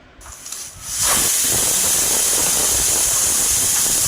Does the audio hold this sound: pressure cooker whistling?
yes